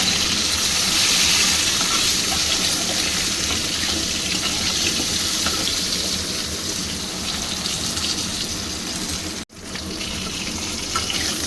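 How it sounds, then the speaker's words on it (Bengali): Eggplant fries in a pan with a dense, steady sizzle that breaks off for a moment near the end before continuing. "বেগুনটা দিয়েও আমি একটু ভেজে নিলাম।"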